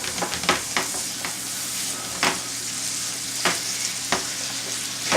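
Butter beans go into a pan where shrimp are already cooking, and a steady sizzle and frying hiss runs throughout, broken by sharp clatters of stirring and utensil scrapes every second or so.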